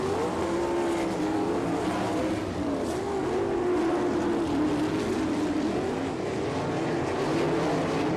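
USAC sprint cars race around the Attica, Ohio track during the Buckeye Nationals, engines wailing in a continuous sustained drone with rising and falling pitch as the pack circulates, loud and without talk.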